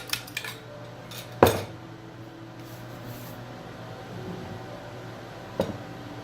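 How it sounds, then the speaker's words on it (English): A fork clinks against a bowl as eggs are lightly beaten, a few sharp metallic taps spaced apart over a quiet kitchen background. "I'm going to beat up my eggs. Just just lightly beaten with a fork,"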